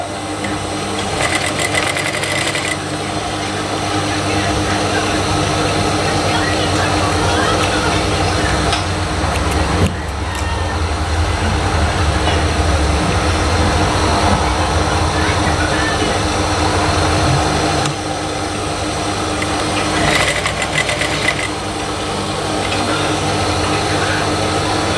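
A sewing machine stitches a prayer garment (mukena) head section in a steady, continuous mechanical whirr with rhythmic ticking, running nearly the whole time with brief slowdowns and restarts, loud and close.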